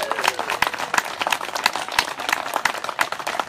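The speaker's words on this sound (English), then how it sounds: "If you could join me in giving these new teams a great big round of applause." Scattered, irregular clapping from a modest audience at a handler course graduation ceremony, individual sharp claps audible within a thin, fairly close applause.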